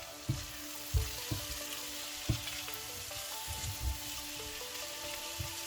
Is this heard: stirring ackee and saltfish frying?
yes